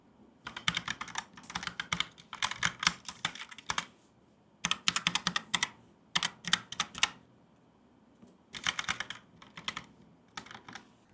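Someone types on a Logitech POP Keys keyboard with round keys, recorded close by a microphone placed beside it. Fast clattering bursts of keystrokes are broken by short pauses, with no talking.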